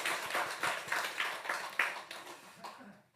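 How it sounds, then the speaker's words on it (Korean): A church congregation at a Korean Sunday worship service claps in a steady rhythmic beat after a choir's hymn, about a dozen even claps fading out, moderately distant in a resonant sanctuary. "우리 경외 박수 한번 하겠습니다"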